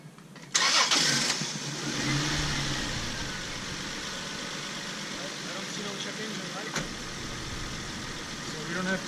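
Car engine cranks and fires up after an intake decarbon spray cleaning, a sudden loud start settling into a steady close idle, with a brief rev bump later, as someone talks over it.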